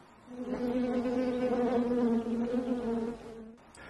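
Honeybees buzz close by around a saucer of sugar water set out for them, a dense steady drone that swells and holds for several seconds before easing off.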